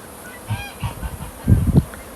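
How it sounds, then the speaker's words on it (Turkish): Geese honk a few times at close range, short nasal calls bunched together, over quiet background noise. "Bu arada kazları görüyorsunuz arkadaşlar."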